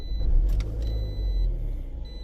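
The engine of a Scion xB car cranks and starts after a new battery is fitted, settling into a low, steady idle rumble close by with no voices.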